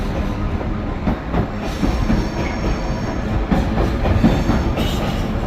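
A freight train hauled by Class 66 locomotive 66108, running from Carlisle Network Yard with a load of old sleepers, rumbles past steadily with clattering wagon wheels, loud and close, with no talk.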